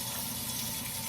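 Water is poured steadily into a pot of rice, a soft continuous splashing and trickling at low level, heard alone without talk.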